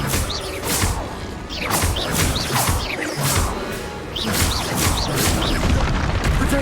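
Repeated Confringo blast spells explode in Hogwarts Legacy combat, a rapid series of loud crashing, whooshing fire bursts with sharp smacks and rumbling booms, dense and continuous throughout.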